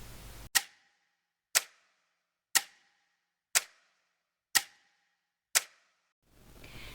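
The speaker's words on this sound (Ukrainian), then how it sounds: "Це звук годинника." Six sharp, evenly spaced ticks about one second apart, crisp and close against a quiet background.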